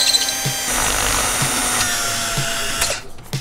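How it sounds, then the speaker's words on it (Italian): Power drill whirring steadily against a lock, a continuous close mechanical whine with faint periodic knocks, ending abruptly after about three seconds. "Proverò a trapanare."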